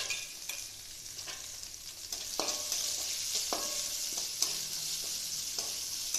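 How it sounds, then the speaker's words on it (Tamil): Garlic and onion frying in oil in a pan while being stirred, a steady sizzle with a run of distinct scraping stir strokes; no one speaks. "பூண்டு கொஞ்சம் நல்லா வணங்கிருட்டும். வெங்காயத்தையும் போட்டுருவோம்."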